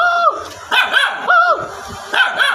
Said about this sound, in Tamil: நாய், கருப்பு நாய், போ போ போ.